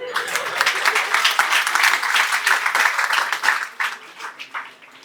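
A seated audience at a spiritual talk on a pilgrimage retreat breaks into lively clapping, dense and loud at first, then thinning into scattered claps that fade out toward the end.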